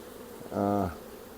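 Honeybees in an opened beehive box, checked after a hive split, give one brief, loud, close droning buzz that rises and fades within half a second.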